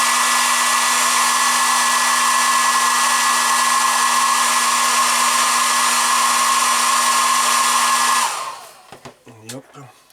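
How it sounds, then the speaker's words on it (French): A hot air tool blows with a steady, loud whir for about eight seconds, then cuts off, leaving a brief voice. "Allez, je vais mettre un petit coup de décapeur."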